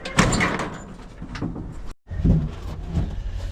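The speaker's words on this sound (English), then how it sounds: "Open the other door for me." A door on a 1980 Chevy 4x4 pickup swings open with a clunk and rattling metal, a brief silent gap, then more creaks and handling noise nearby.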